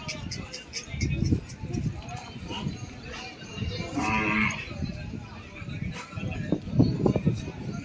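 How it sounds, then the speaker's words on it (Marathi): Crossbred bulls mooing at a cattle market, low lowing calls rising among the crowd noise and chatter, with hoof shuffling nearby and a louder call near the middle. "संकरित जातीचे बैल तुम्ही बघू शकता संकरित जातीचे बैल कसे असते"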